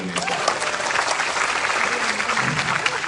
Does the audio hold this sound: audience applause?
yes